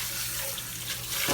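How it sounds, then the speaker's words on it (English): Tap water runs steadily into a sink as sea moss gets its final rinse, a continuous close splashing hiss with no voices, swelling slightly louder at the very end. "This is my final wash."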